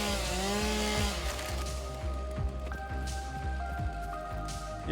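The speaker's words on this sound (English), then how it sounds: "I like the chainsaw noise, it's fun." A chainsaw cutting trees in the game Satisfactory: a droning, buzzing motor with rhythmic pulses as it bites in, close and continuous, over a layer of steady tones.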